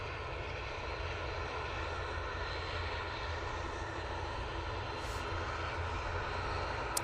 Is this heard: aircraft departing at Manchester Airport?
yes